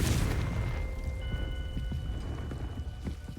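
A Confringo fire spell explodes in Hogwarts Legacy, a loud burst that fades into a crackling, rain-like rumble with faint tonal hums.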